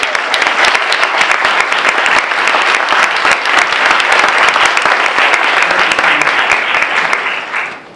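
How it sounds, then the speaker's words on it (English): Loud, dense round of applause from a lecture audience honouring teaching colleagues, many hands clapping steadily for about eight seconds before tapering off at the end. "Let's give them a round of applause"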